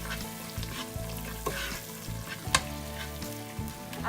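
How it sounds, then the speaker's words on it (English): Aloo mutter curry of potatoes and peas in tomato sauce sizzles and fries steadily in a pan while being stirred, with occasional scraping clinks of the spoon against the pan. "I'm going to give this a good stir."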